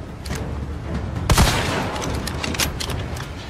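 Gunfire from weapons in a Capcom video game, mostly scattered crackling shots with one loud heavy blast partway through, busy and continuous, with no speech.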